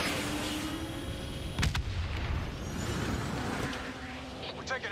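A Call of Duty Black Ops III battle rumbles with continuous artillery and gunfire, a heavy blast near the middle, engine roar and layered explosions, with voices talking faintly underneath.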